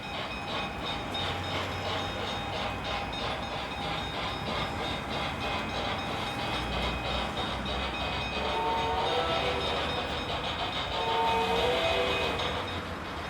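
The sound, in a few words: model steam train running on track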